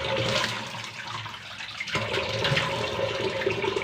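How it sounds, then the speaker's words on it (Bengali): Water from a rooftop tank splashing continuously as someone washes their face, a steady close rushing with a brief dip midway before the flow surges back, no one talking. "সিনটেক্সের জল দিয়ে মুখ ধোয়া যাচ্ছে"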